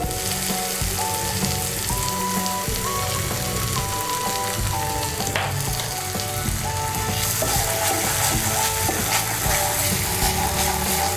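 Tomato ketchup sizzling and frying in a hot pan while cooking chilli egg, a steady dense crackle with faint scraping and clinking of a utensil, continuous and close with no talk.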